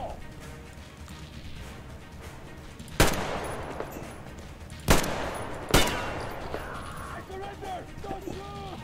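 Three sharp, loud shots from the player's gun in the video game Metro Exodus ring out, separated by a couple of seconds, over a low game ambience and faint effects.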